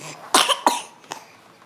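Two short, sharp coughs from a baby boy close by, followed by a fainter third, with quiet room noise between them.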